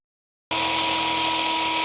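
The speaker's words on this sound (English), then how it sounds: "I'm going to try and use a drill bit. That's all I've got, just to grind the edge of this bolt down a bit." A drill bit grinding down the edge of a bolt during a motorcycle engine repair, a loud steady high-pitched whine that starts abruptly after a half-second of silence and holds without pause.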